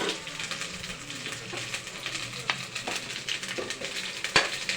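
Chopped tomatoes tipped into a hot frying pan while cooking chicken kuska, a steady oily sizzle with a few soft stirring scrapes and clinks against the pan.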